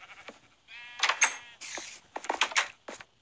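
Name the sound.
sheep bleating in Minecraft video game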